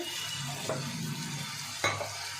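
Fried potatoes are mixed in a bowl for a vegetarian aloo dum, with a soft continuous rustle and two short scraping knocks. The sound is quiet and close, and no one talks.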